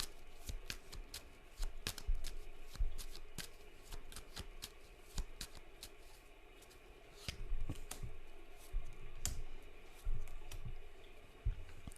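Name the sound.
tarot cards being shuffled and drawn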